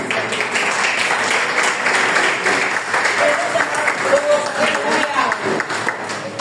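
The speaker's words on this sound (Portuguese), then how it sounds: "Eu daria uma forte salva de palmas a ele" A church congregation at a worship service applauds in a continuous wash of clapping, broad and full, with scattered voices and cheers mixed in.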